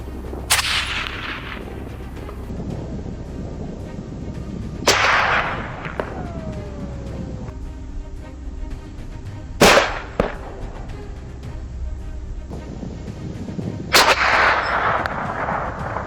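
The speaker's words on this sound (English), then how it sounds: "the sharp cracks of gunfire from my teammates echoed in the distance" Distant gunshots echoing across open ground, four sharp cracks spaced several seconds apart, each trailing into a reverberant decay over a low steady background.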